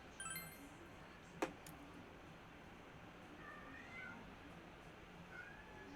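A house cat meows faintly indoors, soft short calls against a quiet room, with one sharp clink partway through and a few more faint mews trailing after.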